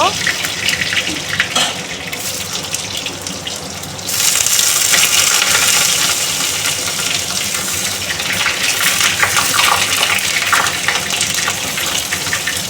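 Pieces of pointed gourd fry in oil tempered with black cumin, a loud continuous hissing sizzle that surges sharply partway through as more pieces go into the pan.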